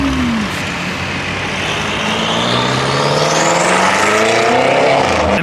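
Car at an outdoor car meet driven hard enough to lift a wheel, its engine revving loudly with rising and falling pitch sweeps over continuous crowd and traffic noise, close by and sustained.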